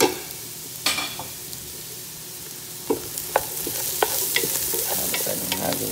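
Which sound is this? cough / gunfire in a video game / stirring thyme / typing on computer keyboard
stirring thyme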